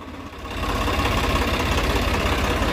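A Swaraj 855 FE tractor, an 8+2 gear model, runs with a steady, close, low rumbling engine note that swells slightly at the start and then holds level, with no talk.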